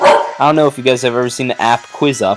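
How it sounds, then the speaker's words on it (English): A pet dog yips and barks nearby, mixed in under a person talking steadily. "I'm sorry, that's my dog"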